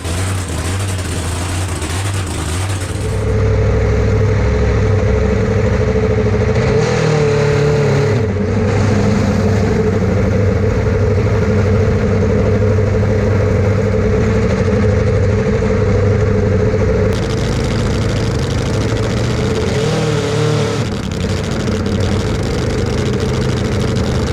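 A nitro drag bike fitted with a freshly swapped motor, running with eight fuel injectors, drones steadily and loudly for most of the stretch with rough, crisp revving and brief changes in pitch, after a quieter start.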